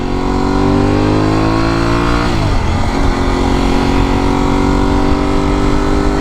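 An Aprilia Tuareg 660 motorcycle engine droning and revving while being ridden, a loud, steady, close-up roar whose pitch dips briefly as the rider shifts, then climbs again, with no talk.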